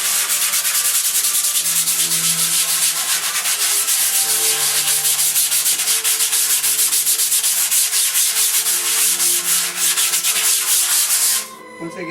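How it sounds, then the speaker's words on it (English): Hand sanding of a thick gesso-coated canvas, a steady close scratchy rasp of continuous back-and-forth strokes that runs loud for about eleven seconds and then stops abruptly. "I'm just going to go ahead and sand it."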